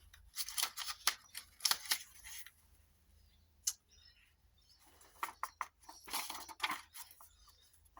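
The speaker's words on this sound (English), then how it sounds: "I'm going to cut it level because it's not level." Scissors cut through sheets of old book-page paper in quick, crisp snips that come in two close bursts separated by a quiet pause, sounding near and fairly soft.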